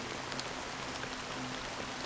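Rain falls steadily in a Honkai: Star Rail cutscene, a soft, even, distant patter with no voices.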